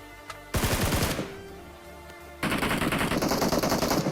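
Automatic gunfire in PUBG on the Erangel map: a loud burst of rapid shots, a quieter pause, then a second sustained rapid burst, close and without talk.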